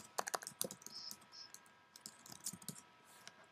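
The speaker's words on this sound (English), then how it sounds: "So when you type the URL here," Keys on a computer keyboard clack in quick irregular bursts as a web address is typed, close and fairly quiet, with brief pauses and no talk.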